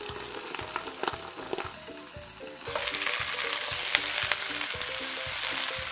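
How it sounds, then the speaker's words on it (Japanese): Cabbage searing in a hot pan, starting as a soft crackle and swelling into a loud, steady sizzle after a few seconds, with no talking. "キャベツ、焼き目つけていきます"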